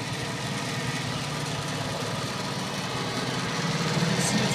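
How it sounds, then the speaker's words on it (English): Logan 11-inch gunsmith lathe running at medium feed, a steady, fairly quiet mechanical hum and whir with faint gearbox rattle, continuous and close, without talk. "You can see it's running. Super clean lathe."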